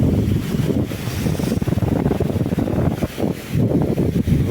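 Strong, steady wind blowing at the full Puzhal lake dam after a storm, a loud low roar buffeting the microphone with gusty surges throughout.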